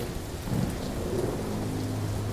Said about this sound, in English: That's just thunder.